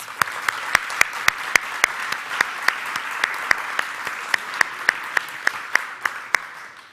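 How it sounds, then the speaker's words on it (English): Audience applause fills a fire department venue during a county plant announcement event, a steady crowd clapping with sharp individual claps standing out throughout, sustained and fairly close. "Let's give them a round of applause."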